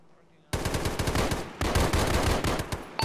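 Sustained automatic machine gun bursts ring out in the ShackTac Arma military video game, loud rapid rattling fire that starts abruptly and continues with a short pause midway.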